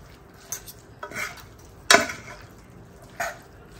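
Vermicelli and vegetables are stirred in a pan, with four scraping, clattering strokes of utensil against metal, the third the loudest, over a faint background sizzle.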